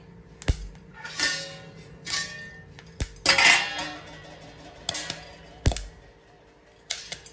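Grains pop inside a covered frying pan on low heat, giving scattered sharp ticks and small bursts against the lid and metal, irregular and close.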